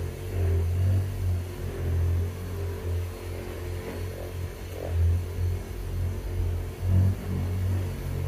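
A car polishing machine runs against the bodywork with a low, steady hum that swells and dips as it is worked across the panel.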